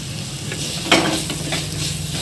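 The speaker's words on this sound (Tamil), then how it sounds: "தக்காளி பழம் போட்டுட்டு நல்லா வந்து தக்காளி பழம் நல்லா குழஞ்சி வர அளவுக்கு வந்துட்டு நல்லா வதக்கி எடுத்துக்கணும்." Chopped tomato sautéing in a clay pot over onion and garlic for fish thokku: a steady close sizzle with a sharp burst of hissing as something is stirred or dropped in partway through.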